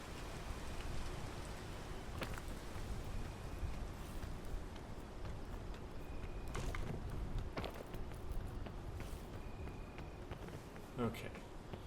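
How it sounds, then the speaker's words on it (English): Steady rain in the climbing game PEAK, a dense continuous patter of drops around the listener, with occasional clicks and someone talking intermittently over it. "When it stops raining on me."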